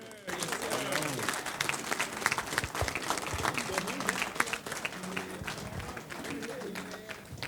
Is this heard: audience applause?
yes